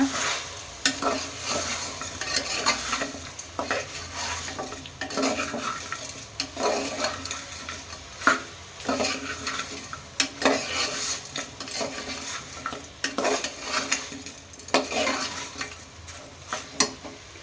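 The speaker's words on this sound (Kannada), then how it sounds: "ಒಂದು ಐದರಿಂದ ಹತ್ತು ನಿಮಿಷ ಹಸಿ ಸ್ಮೆಲ್ ಹೋಗೋವರೆಗೂ ಚೆನ್ನಾಗಿ ಫ್ರೈ ಮಾಡ್ಕೊಳ್ಳೋಣ" Masala for a village-style country chicken curry fries in a pan while a spoon stirs and scrapes it in repeated strokes, with a steady sizzle and clanks against the metal for the whole stretch.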